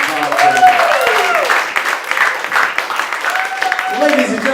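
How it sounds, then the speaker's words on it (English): An audience at a comedy roast claps in steady, continuous applause while someone talks loudly over it. "Give them a big round of applause, guys"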